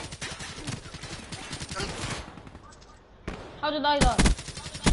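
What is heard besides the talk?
gunshots in the video game Black Ops 3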